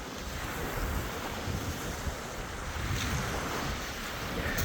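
Waves wash steadily along the Lake Superior shore in Michigan, a continuous broadband roar of surf mixed with wind buffeting the microphone, with no voices.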